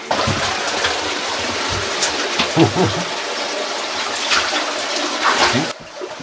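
Close, gushing water splashing and gurgling unevenly through a cave, loud and bubbly, then cutting off abruptly near the end.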